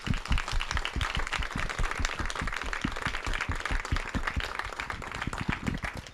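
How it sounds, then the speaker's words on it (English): Applause from a crowd at Eastie Farm's community celebration, a steady dense patter of clapping running the whole time, fairly close and full, with some low thumps mixed through it. "So a big round of applause for everyone."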